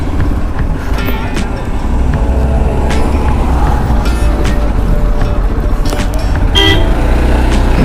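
Heavy road traffic on a hill road near Theog in Himachal Pradesh, with a constant loud engine rumble and several car horns tooting now and then, close by.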